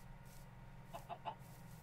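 Minecraft chickens give three short, soft clucks in quick succession, faint and low in the mix over a quiet game background.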